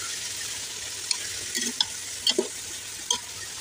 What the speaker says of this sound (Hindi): बीफ और अदरक लहसुन को हम अच्छी तरह से फ्राई कर लेंगे।